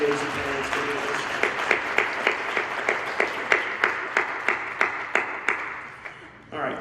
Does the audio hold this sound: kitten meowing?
no